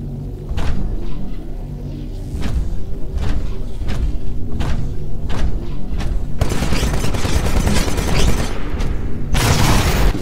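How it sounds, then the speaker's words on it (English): A Titan's Vortex Shield in Titanfall hurls absorbed ballistics back out as a loud barrage of rapid gunfire-like cracks and heavy booms, swelling into a dense roaring volley in the second half. "This weapon absorbs incoming ballistics for a limited time,"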